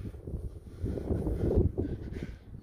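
Cold wind blowing across an open farm in late winter, a steady low rumbling buffet against the microphone that swells and peaks midway before easing off, with no voices.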